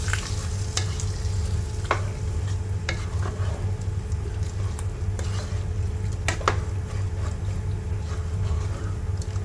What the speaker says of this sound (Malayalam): നമ്മളത് കറിയിലേക്ക് ഒഴിച്ചു കൊടുക്കാം പെട്ടെന്ന് യോജിപ്പിക്കാം